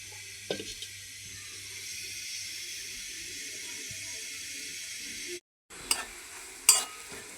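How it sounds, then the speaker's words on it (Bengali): Onion and garlic fry until browned for tempering bottle gourd greens, making a soft, steady sizzle and hiss under a few clinks, with a short gap of silence followed by some louder knocks near the end. "এই যে শাক বাগারের জন্য এখানে পেঁয়াজ আর রসুন আমি লাল করে নিচ্ছি।"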